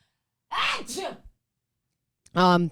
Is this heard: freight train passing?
no